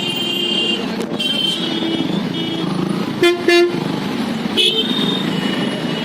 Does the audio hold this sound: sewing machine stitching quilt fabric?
no